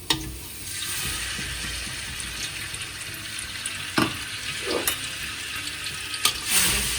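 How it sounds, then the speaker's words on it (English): Chopped ginger and garlic sizzle in hot oil in a wok, a constant close frying hiss broken by a few sharp clanks and scrapes of stirring. "once the oil is hot, add your chopped ginger and garlic"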